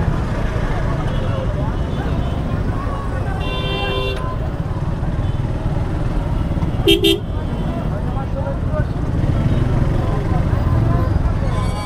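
Busy market traffic jam at Mukundaghati bazar in Enayetpur, Sirajganj, with a steady broad roar of idling engines and traffic, a few short vehicle horn toots standing out midway, and people's voices mixed into the background.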